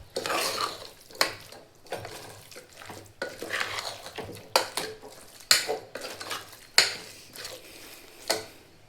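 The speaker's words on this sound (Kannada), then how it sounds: "ಇನ್ನೊಂದು ಸತಿ ಮಿಕ್ಸ್ ಮಾಡ್ಕೊಳ್ಳೋಣ್ರಿ." A spoon scrapes and clanks against a metal pot while brinjal and potato pieces are mixed into sprouted horse gram sambar, with irregular knocks and stirring strokes close by and no talking.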